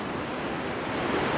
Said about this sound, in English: the sound of the water through the stones is